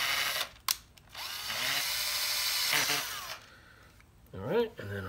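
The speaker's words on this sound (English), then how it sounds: "And we're going to drill this in." A power drill drives into a rod rack inside a car, with bursts of whining motor that rise and stop, broken by short pauses and a final short spin, close by with some voice underneath.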